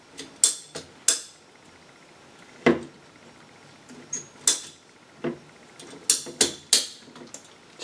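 A PVC pipe cutter snipping through a 10-foot length of PVC pipe, heard as a series of sharp, close clicks and snaps spaced irregularly over several seconds.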